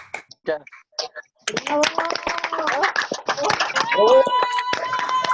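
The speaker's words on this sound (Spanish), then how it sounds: "le den un fuerte aplauso a sus hijos, a sus hermanos, y ustedes mismos aplaudan que hayan culminado esta meta" Audience clapping at a CECYTE high school graduation ceremony in Tlalcuapan, starting with a few isolated claps and swelling into busy, uneven applause with voices talking throughout.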